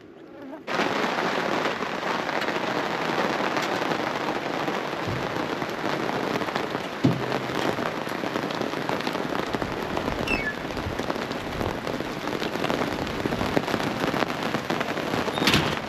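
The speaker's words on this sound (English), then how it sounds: "the rains are here" Steady rain falls over the outback of the Gawler Ranges, a dense, continuous hiss that starts abruptly and stays loud and even throughout, with occasional heavier patters and a brief low thud partway through.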